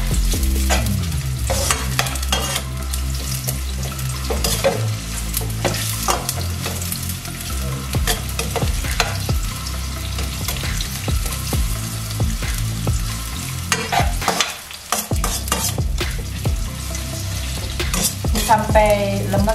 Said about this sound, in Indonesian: Ini bawang bombaynya sudah aku iris-iris. Tumis dulu sampai dia layu ya.